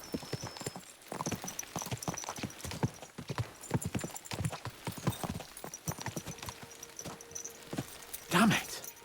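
Horse hooves clip-clopping in the video game Kingdom Come: Deliverance II, a steady trotting rhythm of distinct hoof strikes with a brief louder snort or whinny near the end.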